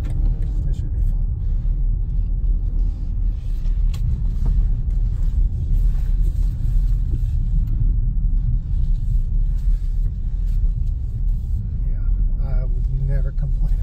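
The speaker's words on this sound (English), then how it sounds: "Yeah, I can hear the tires, but the car is just fine." A 2019 BMW X5 on the move, with steady low road rumble and tire noise from inside the cabin filling the whole stretch at an even, loud level.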